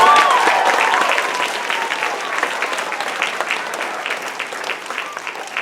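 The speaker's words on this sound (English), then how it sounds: "can we get a round of applause for that?" A fifth-grade school leadership group gets a round of applause at a students-of-the-month gathering, dense clapping that starts strong and gradually thins and fades.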